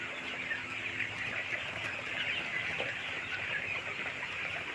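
Chickens cluck steadily on a poultry farm during hot weather, a dense flock of overlapping bird calls and chatter forming a continuous, fairly loud bed of sound with no voices.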